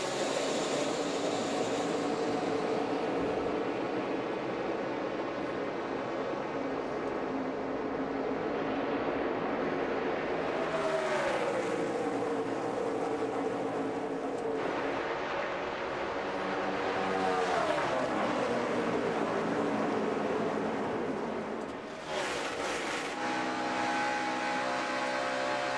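NASCAR stock cars roar away at the start of a 2017 Cup race, a loud, continuous wall of engine noise with pitches rising and sweeping as cars accelerate past.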